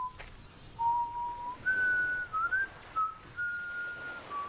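A character in the video game Fable Anniversary whistles a slow, wandering tune of single held notes with short gaps, heard clearly and alone over a faint ambient hum.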